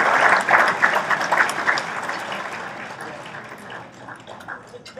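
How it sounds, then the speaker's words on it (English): An audience at a hockey hall of fame awards ceremony gives a warm round of applause, steady dense clapping that slowly fades across five seconds, with no talking over it. "Please give a warm round of applause for 2017 Massachusetts Hockey Hall of Fame member Ralph Windsor."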